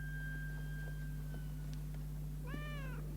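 A cat meows twice, faintly and at a distance, the second call drawn out and rising, over a steady low electrical hum and room tone.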